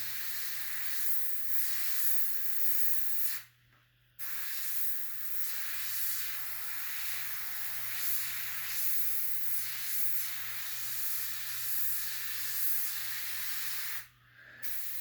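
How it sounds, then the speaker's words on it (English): Airbrush spraying paint onto a T-shirt from several inches away in a wide light dusting, a steady close hiss with two brief pauses in the spray. "with the airbrush several inches from the shirt, just kind of spray like a wide light dusting across the name"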